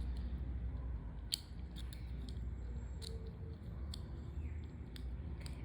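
Sharp scissors snip crochet yarn in a series of crisp, close clicks spaced about a second apart, over a low steady background hum.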